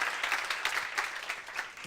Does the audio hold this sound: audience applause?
yes